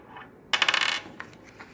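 Dice tumble and clatter across a hard surface during a classroom Black Death plague simulation game, a quick burst of rattling clicks that settles into a few faint taps, close and alone in a quiet room.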